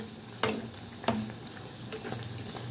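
Khaja pastry made from flour and sugar fries in hot oil with a steady close sizzle, while a spoon repeatedly ladles oil over the top in a few soft splashing strokes.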